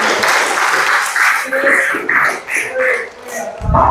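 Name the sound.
classroom applause for a student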